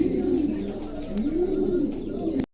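Pigeons coo close by in a series of soft, low, rolling calls that rise and fall in a rhythmic wavering pattern, with faint background noise.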